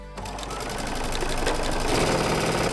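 A sewing machine stitches fabric pieces for a half square triangle quilt block, its motor running steadily and loud with a rapid needle chatter that builds slightly toward the end, with no talking.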